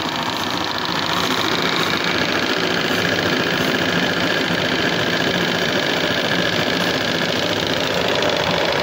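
A burner fed by a liquid-feed fuel system runs with a steady flame, a loud, continuous roaring hum with a fine rapid pulsing texture that holds even from start to finish, with no talk.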